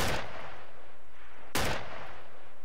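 Gunfire in the ArmA 2 military video game, two loud sharp shots about a second and a half apart, each followed by a long rumbling decay over steady background noise.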